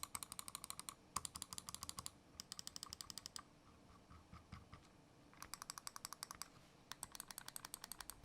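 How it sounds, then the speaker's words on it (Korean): A Glorious Model O 2 Mini gaming mouse is clicked in quick bursts, crisp muted ticks in rapid runs with short pauses, quiet and close, with no voices. "클릭음이 전체적으로 점잖은 느낌 맞죠?"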